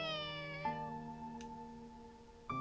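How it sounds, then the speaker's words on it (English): A cat meows in a long drawn-out call with a steady tonal wail, close and clear, followed by a couple of brief sharper vocal accents against quiet background. "The cat moves next to us"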